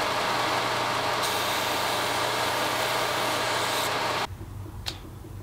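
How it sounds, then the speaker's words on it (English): A belt grinder runs steadily, a loud continuous whir and rasp while a knife handle's front edge is roughed in, the grinding tone shifting as contact changes, then dropping abruptly to a quieter hum near the end. "I want to rough in the front edge of the handle on the belt grinder"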